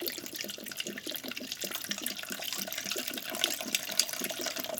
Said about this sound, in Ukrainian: І туди виливаємо оцет яблуневий чи яблучний.